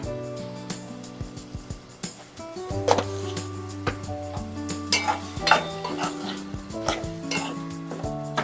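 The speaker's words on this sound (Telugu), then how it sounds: "ఇప్పుడు ఇందులో మనం టమాటాలు వేసుకుందాం మసాలా కూడా కొంచెం మగ్గాలి కదండి కొంచెం సాల్ట్ వేస్తున్నా" Tomatoes and salt go into a pan of frying masala for a dried-fish tomato curry, with steady sizzling under repeated scraping and clinking of a spoon against the pan.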